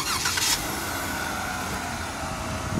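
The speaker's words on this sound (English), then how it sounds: "Just hit lock and hit the remote start button twice." A 2016 Jeep Wrangler Unlimited Sahara engine starts by remote start, with a brief burst of cranking at the start that settles into a steady, close idle hum.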